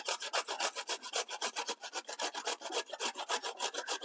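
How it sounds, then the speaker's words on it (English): Ginger grated on a box grater in a kitchen: steady rhythmic rasping strokes, about eight per second-and-a-half pace, close and fairly loud with no talking. "so it's really easy with the box grater"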